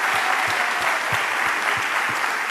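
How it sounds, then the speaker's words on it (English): A town hall crowd gives a big round of applause, a loud, continuous wash of clapping with a soft rhythmic thumping beneath it, sustained throughout. "They deserve a big round of applause."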